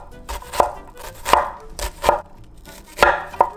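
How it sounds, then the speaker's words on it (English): A knife chops an onion on a cutting board in five distinct, close, sharp thuds at an uneven pace, with no voices. "Cut the onion."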